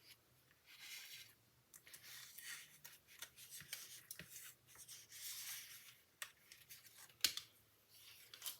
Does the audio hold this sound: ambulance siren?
no